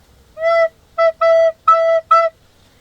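Close recorder tones play a five-note phrase from a song on one repeated pitch with a higher note woven in, each note clean and separated by short gaps.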